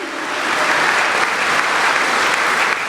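A large crowd at a junior-senior high school graduation ceremony applauds for the class valedictorian, a broad, sustained clapping that swells in over the first half second and stays loud and even throughout.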